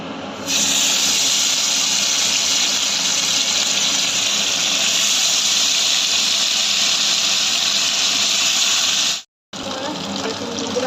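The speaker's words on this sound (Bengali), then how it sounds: "ভাজা হয়ে গেছে মাছটা, আমি তুলে নেবো" Pabda fish rubbed with turmeric and salt fry in hot oil, producing a loud, dense, continuous sizzle close up that holds steady for about nine seconds, cuts out briefly, then resumes.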